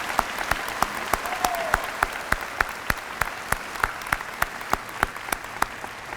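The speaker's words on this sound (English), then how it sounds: "would you please help me in a round of applause" At a high school commencement, a crowd applauds the graduating class, a steady wash of clapping with sharp, evenly spaced louder claps cutting through close by.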